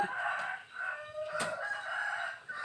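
A rooster crows at moderate distance, its call rising and falling across nearly three seconds over quiet outdoor background sound.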